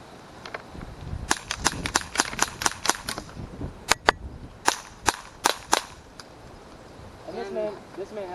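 A Daisy Powerline 426 air rifle fires a rapid string of about a dozen sharp, close, cracking shots, some in quick pairs, followed by a brief spoken voice at the end.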